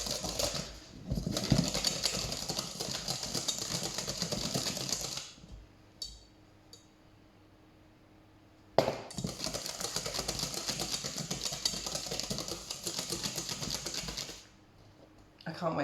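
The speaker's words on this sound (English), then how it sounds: "Whisking well, that's it." Mayonnaise being whisked by hand in a bowl: a fast, steady clatter of whisk against bowl runs for several seconds, breaks off briefly into near quiet, then resumes just as busily before stopping.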